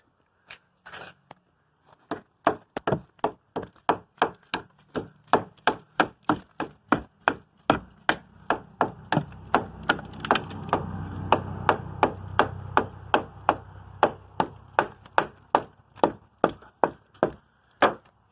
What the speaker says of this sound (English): now I just take this hammer and clean this little bit of brick mortar that's sticking out